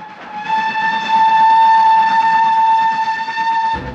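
A steam train on a Welsh railway sounds a long steady whistle over the rolling rumble of the carriages, loud and close throughout.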